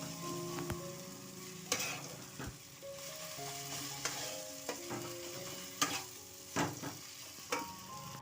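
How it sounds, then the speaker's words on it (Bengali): Ground spice paste fries and is stirred with melted tomato, turmeric and chili powder in a pan for a mushroom paneer curry: a steady sizzle broken by repeated sharp spoon scrapes and taps, close and fairly loud, with no talking. "তারপর বেটে রাখা মশলাটা একটু কষিয়ে নেব।"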